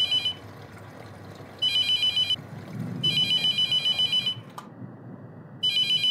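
A phone rings in the horror game The Mortuary Assistant, loud electronic trilling bursts repeating in clear on-off pulses with quiet gaps between, over a low background rumble.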